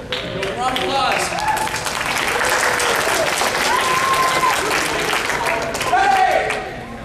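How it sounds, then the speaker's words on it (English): Enthusiastic crowd applause at a convention panel game, loud continuous clapping with cheers and shouted voices mixed in, swelling near the end before fading. "Round of applause."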